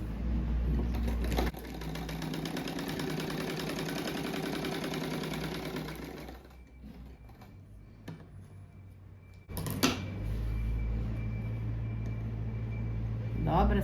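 A sewing machine stitches a hem on a fabric bag strap, whirring steadily up close, pausing for a few seconds midway, then starting up again and running on.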